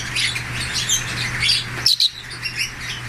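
Several African lovebirds chatter and squawk close by, a busy overlapping stream of sharp calls with two louder chirps near the end, over a steady low hum.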